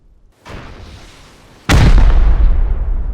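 HV rocket blasts in the video game Rust: a softer first burst, then a heavy, loud boom with a deep low-end rumble that rolls on and decays slowly, no voices.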